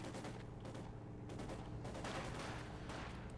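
An MG42 machine gun fires from inside a church building in Company of Heroes 2, a steady faint stream of rapid bursts mixed with other battle sounds, with no talk over it.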